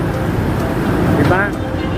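Road traffic outside Megamall rumbles as a steady broadband wash of passing vehicles, with a brief engine whine near the end, while voices talk over it.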